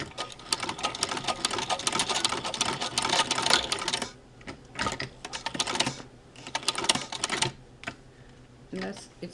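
A Singer 15-88 sewing machine fitted with a zigzagger attachment chatters in rapid bursts up close, running steadily and then stopping and starting in shorter spurts.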